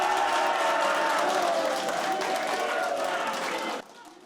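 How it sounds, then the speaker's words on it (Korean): Supporters of Democratic Party candidate Kim Kwan-young erupt in cheering and applause as his election win is confirmed, a dense, loud burst of clapping and crowd cheers that continues steadily before dropping off sharply near the end. "김관영 민주당 후보의 당선이 확정되자 지지자들의 환호와 박수가 터져 나옵니다."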